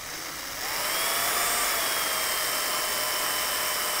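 Cordless drill boring slowly through a steel beam, a steady mid-pitched whine and grinding hum that starts after a brief quiet moment and holds evenly close to the mic.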